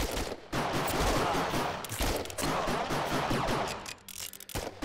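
Rapid, sustained gunfire pours from hordes of enemies in the VR wave-shooter Operation Serpens, a dense, loud continuous barrage that briefly thins near the end, with no talk.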